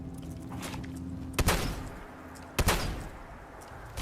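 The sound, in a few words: shotgun fire in video game Fallout 4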